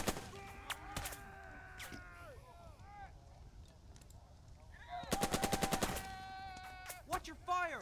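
Gunfire in the WWII tactics video game Burden of Command, aimed at a Panzerschreck team: single rifle cracks, then a rapid machine-gun-like burst, and more shots at the end, over a faint battlefield background.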